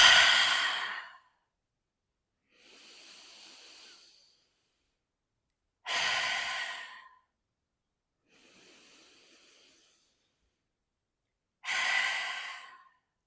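Long, forceful exhales blown out slowly during a breathing exercise, three loud breaths alternating with softer breaths, separated by silent pauses, close and with no talking.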